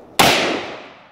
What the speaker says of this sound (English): You're gonna try to fire one round with it on full auto.